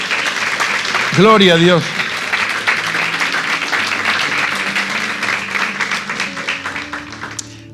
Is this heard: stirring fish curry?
no